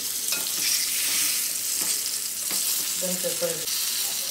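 Karli fish fries in a pan, a dense, loud, continuous sizzle and spatter heard up close, with a few soft knocks as the fish is turned, no voices.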